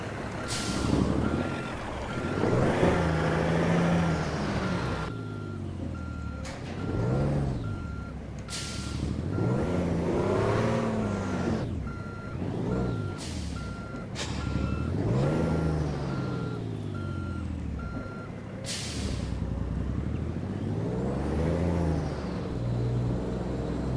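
Kenworth K100 truck in American Truck Simulator, steady engine drone with rising and falling gear pitch sweeps, air-brake hiss bursts and a repeating reversing beep tone, continuous and close with no talk.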